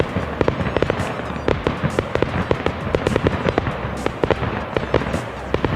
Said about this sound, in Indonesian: Kembang api yang kita lihat tadi memancarkan berbagai macam warna